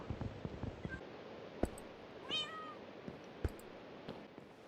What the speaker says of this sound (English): those cats are loud